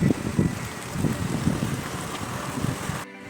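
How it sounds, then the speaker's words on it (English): Strong gusting wind on a walk outdoors in Mersin, Turkey, buffeting the microphone with heavy low rumbling blasts that swell and ease throughout, loud and close. "It's so windy."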